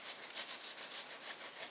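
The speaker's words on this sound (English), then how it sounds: "Again, just sawing back and forth here" A knife saws back and forth through wax cappings on a honeycomb frame during a honey harvest, giving a soft, rhythmic rasping of about a dozen quick strokes, close and quiet.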